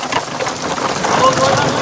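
Rain falling steadily at the Matla river during a fishing trip, a dense even hiss that holds for the whole stretch at a fairly loud level with no clear gaps.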